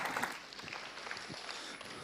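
A conference keynote audience gives a short round of applause, a moderate, fairly quiet wash of clapping heard from a distance in a large hall.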